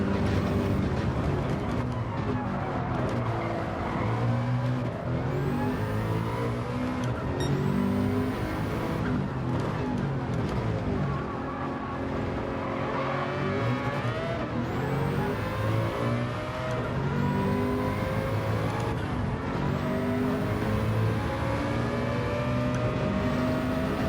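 Race cars in Gran Turismo 7 roar continuously at high revs, with several engines sweeping past in rising and falling pitch glides, loud and close throughout.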